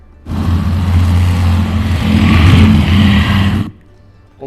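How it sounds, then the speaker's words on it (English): A loud engine roars steadily for about three seconds, rising slightly in pitch, then cuts off abruptly into near silence. "a motorcycle racing through the street"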